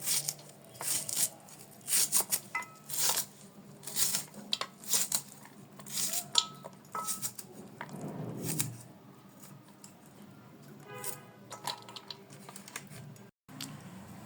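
A knife finely chops fresh onions on a board for crispy onion fritters, with steady rapid taps in bursts and short pauses, close and fairly quiet.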